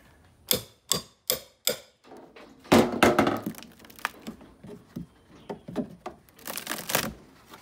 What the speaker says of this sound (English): I got my framing hammer and my crowbar. Let's get this off of here.